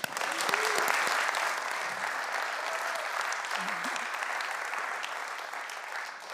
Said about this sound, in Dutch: ik wil al eerst toch wel beginnen met een daverend applaus